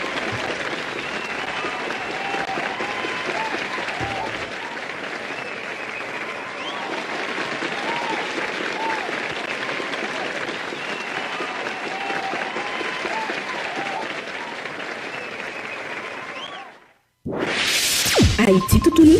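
A crowd claps and applauds in a long, steady ovation for the youth, dense and even, then cuts briefly to silence before louder applause bursts back in near the end.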